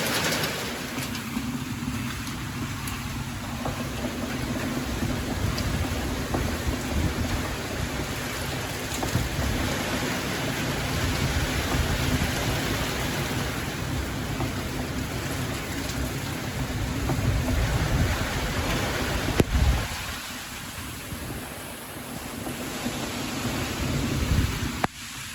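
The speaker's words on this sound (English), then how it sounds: "the wind is so hard that the rain is just blowing in" Heavy wind-driven rain and hail lash a concreting site where a tarp covers fresh cement, forming a loud continuous roar that surges and eases, with a sharp knock partway through and no talking.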